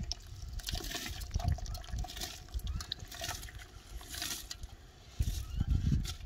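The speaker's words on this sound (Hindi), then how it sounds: "मूंगी जो है यहाँ पे पक चुकी है, तो यहाँ पे इसमें चावल डालेंगे।" Rice poured into a pot of cooked mung beans for a thick Charsadda-style rice dish, giving soft irregular rustling and wet splashing pulses with brief lulls between them.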